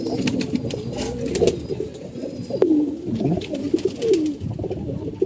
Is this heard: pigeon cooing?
yes